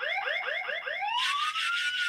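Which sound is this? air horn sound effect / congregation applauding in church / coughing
air horn sound effect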